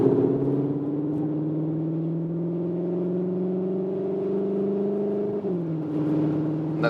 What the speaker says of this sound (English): once again, we go to the Cupra mode and accelerate out here.